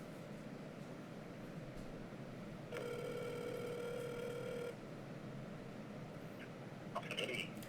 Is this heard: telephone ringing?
yes